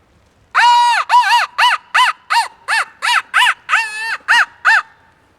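A handheld crow call used for locating turkeys blasts a series of about eleven loud, sharp caws in quick bursts, some doubled, mimicking a crow over near silence.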